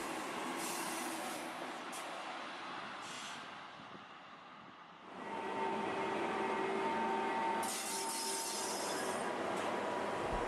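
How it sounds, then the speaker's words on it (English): A green train rumbles and rolls steadily into a mountain station, wheels grinding and squealing on the rails, with a dip in the noise before a louder, closer stretch with high metallic squeals. "The green train pulls into the station high up on the mountain."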